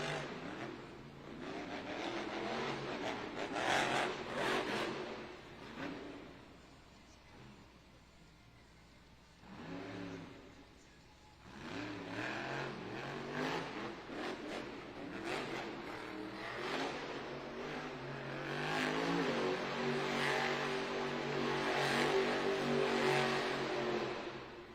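A monster truck engine revs loudly in an arena during a Monster Jam event in Raleigh, with surging roars and dips, scraping and crowd ambience around it.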